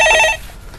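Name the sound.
telephone ringing with an incoming call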